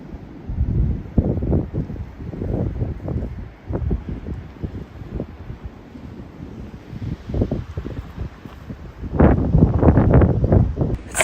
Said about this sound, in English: It's definitely a wee bit windy